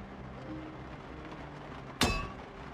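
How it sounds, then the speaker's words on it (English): A sledgehammer smashing objects in the video game Project Zomboid: a single loud, sharp metallic clang strikes once and rings out briefly over a quiet ambient hum. "he decides to take his frustration out with a sledgehammer smashing things"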